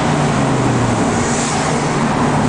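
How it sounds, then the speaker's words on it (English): A 2000 Chevy box truck engine revs as the transmission shifts, a steady droning hum with a low tone that drifts in pitch, set against continuous road noise. "See, it's revving up where it changes."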